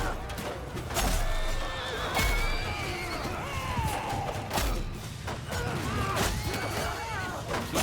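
Horses neigh and whinny repeatedly amid the clatter and thuds of a battle in the video game Mount & Blade II Bannerlord, loud and layered over a busy background.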